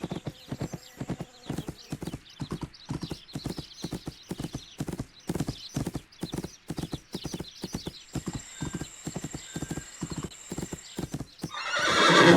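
Horse hooves clip-clop in a steady, even rhythm through the riding video game My Little Riding Champion, with a faint tone in the background and a burst of noise at the end.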